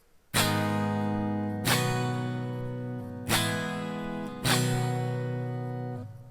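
Acoustic guitar strums four full chords of a song, each struck firmly and left to ring for over a second, close and alone at a moderate level.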